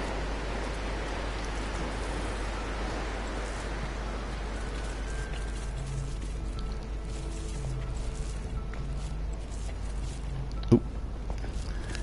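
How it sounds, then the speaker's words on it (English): Rain falls in the video game No Man's Sky as a dense, steady hiss that continues throughout, with a low rumble beneath and a single sharp click near the end. "Oh, this rain really is quite hot."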